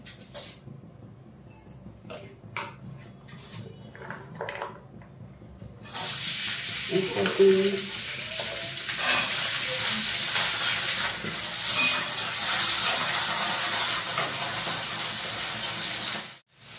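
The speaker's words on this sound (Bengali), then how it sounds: "এবার আমি সবজিগুলোকে সব একটা একটা করে ভেজে নেব" Beans and other vegetables fry in white oil in a wok, a loud, steady hiss that starts abruptly partway through and holds, after quieter scattered kitchen clatter.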